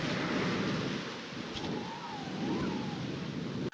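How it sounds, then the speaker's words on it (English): Water waves from the Star Trek (2013) video game wash and roar in a steady, broad surf-like rush, loud and continuous, with no talking. "Look at them water effects."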